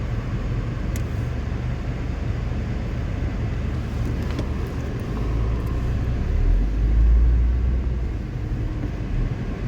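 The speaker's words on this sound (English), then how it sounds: "Like I said, I'm driving." A car cruising along the road, a steady low engine and road rumble from inside the cabin that swells briefly partway through, with no talking.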